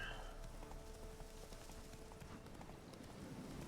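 Horse hooves clip-clopping at a gallop in The Witcher 3, a quiet rapid rhythmic patter of game audio with light rainlike ambience underneath.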